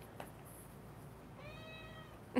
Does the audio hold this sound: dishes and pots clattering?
no